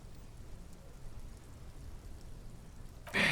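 Steady rain in the video game Disco Elysium, set in a traffic jam: a soft, continuous hiss of falling rain with low rumble underneath, fairly quiet throughout, ending in a sudden brighter, louder burst.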